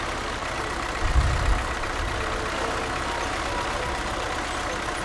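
Classic old tractor with an air-conditioned cab idles in the video game SnowRunner, a steady low mechanical rumble running evenly throughout with one slightly louder bump near the start.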